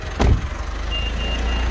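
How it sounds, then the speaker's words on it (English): A faint, steady high electronic key-reminder beep from a 2017 Mitsubishi Pajero Sport GLS repeats at an even pace over a low engine idle, with a brief thump near the start. "that beeping's just letting us know that I've actually got those keys in my hand"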